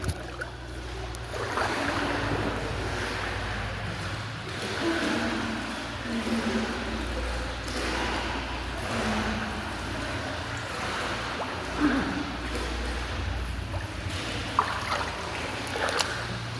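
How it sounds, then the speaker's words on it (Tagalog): Water sloshes and splashes gently in a shallow children's swimming pool as someone swims, a soft, continuous lapping with a few brief splashes and no talk. "Subukan kong maglangoy dito."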